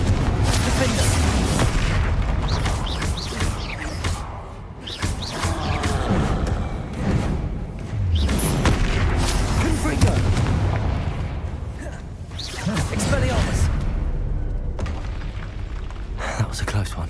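Spell blasts and explosive booms in the Hogwarts Legacy video game on PS5, heavy rumbling bursts rolling one after another through a loud battle, with voices talking and shouting over the din.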